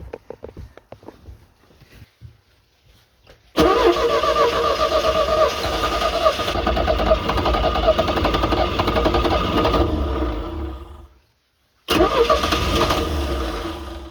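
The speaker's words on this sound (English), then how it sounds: "Mixed gas is good to start that motor with." A few tugs and clatters, then a small boat motor running on mixed gas roars to life and runs loudly, cuts out briefly, and starts again.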